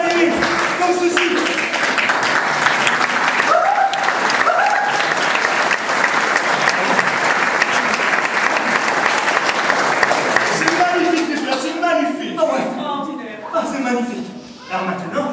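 Loud, dense theatre audience applause rolls on steadily for most of its length, with a voice speaking over it throughout and the clapping thinning out near the end.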